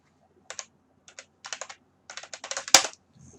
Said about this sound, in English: it's me and my typing.